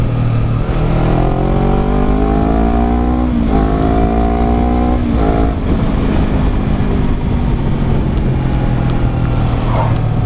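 A 2019 Honda CBR250RR sport motorcycle engine revs up in several rising pulls with shifts between, loud and close, over a steady rumble and road noise.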